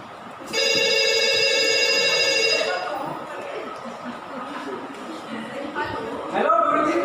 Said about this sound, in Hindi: तभी दूसरे छात्र का फोन आता है।